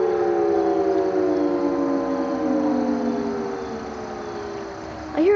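A Federal Signal Thunderbolt siren wails far off, its falling tones gliding steadily downward over several seconds before a new rising sweep begins, sounding alone against faint outdoor ambience.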